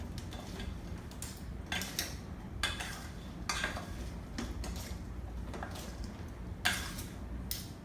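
Chicken hot salad ingredients being mixed in a bowl, with light repeated clinks and scrapes of a utensil against the bowl at an uneven rhythm, faint and close.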